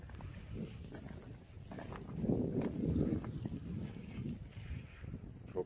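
Wind buffets the microphone in low rumbling gusts with snow, on a winter fishing trip on the Kuloy River, swelling in the middle and easing toward the end, with no talking.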